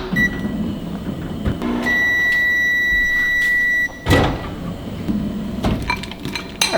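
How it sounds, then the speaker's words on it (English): A microwave oven hums steadily with a high whine while heating caramel in half-minute bursts, then a sharp clunk as it stops, followed by light clinks and clatter. "I'm gonna go ahead and pop this in the microwave for a half minute at a time"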